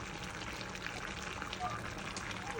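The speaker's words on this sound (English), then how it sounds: "I'll add a little bit of water just to give it color, and I'm going to throw it over the food" Water is poured over green beans stewing in a pot for a bredie, a steady soft trickle and splash running throughout, quiet and close.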